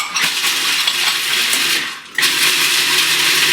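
Food processor chopping pine nuts, walnuts and garlic for homemade pesto, a loud steady whirring grind with rattling nut pieces that dips briefly near the middle, then resumes.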